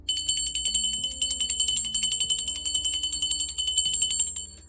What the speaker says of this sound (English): I'm going to ring the bell for my spirit guides, guardian angels, and ancestors